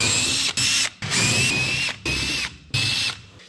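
A power driver backs screws out of a Carrier furnace burner box in several loud, close bursts of high whirring and ratcheting, each lasting about half a second, separated by short gaps.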